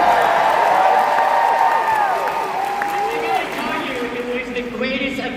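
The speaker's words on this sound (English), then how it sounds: "by the sounds of the crowd, we have some fans here" A live panel crowd at the Honda Center cheers, claps and whoops loudly and steadily, with voices rising above the roar as it slowly fades.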